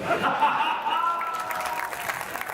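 An audience applauds at a Hindi hasya kavi sammelan comedy poetry show, with a steady wash of clapping from a crowd and brief traces of laughter and voices mixed in.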